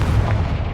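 A brief, heavy, low rumbling blast from a Confringo fire spell in Hogwarts Legacy, loud and booming for under a second with no talk.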